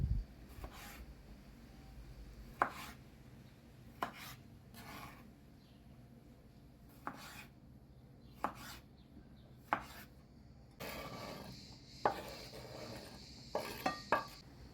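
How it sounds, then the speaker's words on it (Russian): A knife slices cherry tomatoes into wedges on a board in sparse, separate strokes, with a brief rasping scrape near the end; quiet and close. "берем 8-10 коктейльных помидоров и нарезаем вот на такие дольки"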